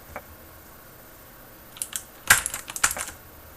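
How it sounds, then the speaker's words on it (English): Cherry MX Blue mechanical keyboard switches, clicky and tactile, pressed in a few sparse taps and short bursts of crisp clicks, close and fairly quiet with no one speaking. "the cherry blue is a tactile clicky switch"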